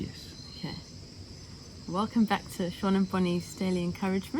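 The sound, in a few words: crickets chirping in a garden in the evening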